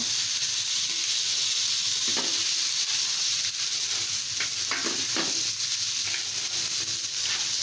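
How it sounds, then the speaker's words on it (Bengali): Rice frying with mutton in a pan for Old Dhaka-style mutton biryani, a loud continuous hiss and sizzle close by, broken by intermittent scraping stirs against the pan. "এখন আমি চালটা দিয়ে দিচ্ছি আমি খুব সুন্দর করে চালটা একটু ভেজে নিব"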